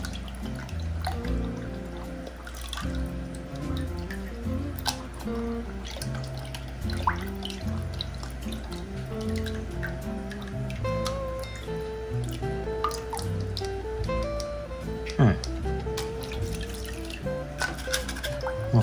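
Running water rinses an aquarium filter, a modified Suisaku Eight with a plastic bottle, in steady splashing and dripping that stays close and continuous, with small clunks as the filter is handled.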